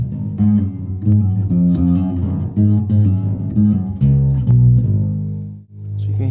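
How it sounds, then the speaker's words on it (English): Bass guitar on a TC Electronic BG250 combo with a chorus TonePrint effect plays a loud, steady phrase of low notes with a shimmering, modulated tone, ending on a held note that cuts off briefly. "As Nigel said earlier, we do have the chorus TonePrint built into it, and that sounds like this."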